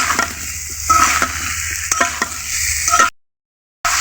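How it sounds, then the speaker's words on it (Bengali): Spiny gourd slices fry and sizzle in a pan while a spatula stirs them, giving steady frying hiss with scraping strokes, then a brief cut to silence near the end. "এভাবে আস্তে আস্তে ছুন্নির সাহায্যে নেড়ে চেড়ে এটাকে ভেজে নিতে হবে"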